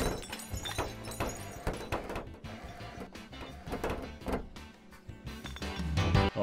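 A bottle drops and shatters in Counter-Strike 2, with sharp breaking thuds and clinks over a busy game soundscape of background music and ambience, close and moderately loud.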